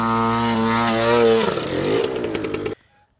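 A dirt bike engine, either a Yamaha YZ or a Honda CR, revs loud and close, its harmonic tone climbing and falling before it roughens and cuts off abruptly into near silence.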